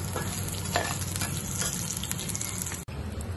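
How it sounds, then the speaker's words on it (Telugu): Red chillies, cashews, curry leaves and dried chillies fry in hot oil with a dense, constant sizzle up close, while a utensil stirs and scrapes through them. "ఇందులో రెడ్ చిల్లీ, జీడిపప్పు, కరివేపాకు, ఎండుమిర్చి వేసి వేయించుకోవాలండి."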